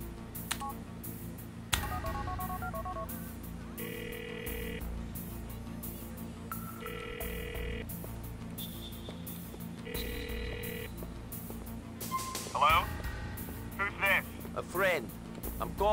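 Telephone touch-tone dialing beeps in the video game GTA IV, three short tone bursts spaced a couple of seconds apart, followed by chirpy electronic ringing, over steady game background sound and faint voices.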